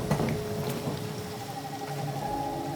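Rain falls steadily at night, a dense continuous patter with a few sharper drips over a low hum, moderately loud throughout.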